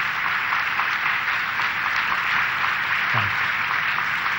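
Audience at a church talk gives sustained applause, an even, close hiss of many hands clapping at steady volume with no voices over it.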